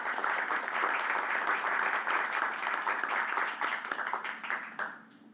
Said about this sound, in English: Let's give Senator Nelson a round of applause.